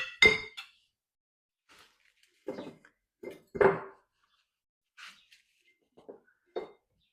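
Glass jars clink a few times, close and clear, as spices are put into them while pickling cucumbers, with quieter knocks and taps in between.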